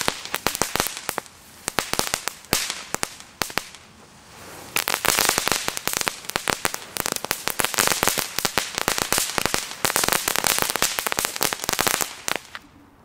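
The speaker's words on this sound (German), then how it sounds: "Das sind coole Fontänen." A Lesli consumer fireworks fountain from a family assortment burns with dense, continuous crackling and sharp popping bursts, loud and close, thinning briefly around the fourth second before resuming at full intensity until it fades out.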